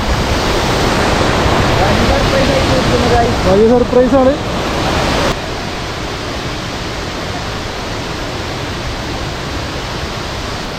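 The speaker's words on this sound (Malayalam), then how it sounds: "നമ്മൾ വെള്ളച്ചാട്ടത്തിനടുത്ത് എത്തിയിട്ടുണ്ട് കേട്ടോ" Punnayar waterfall in Idukki, Kerala roars as a steady, loud broadband rush of falling water throughout, with someone speaking briefly over it partway through.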